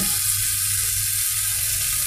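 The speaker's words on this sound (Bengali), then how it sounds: "এখন নামিয়ে ফেলি আর মাছ ভাজাগুলো করে দেই।" Small puti fish fry in hot oil with a dense, steady sizzle that holds at the same level throughout this short moment, with no voices.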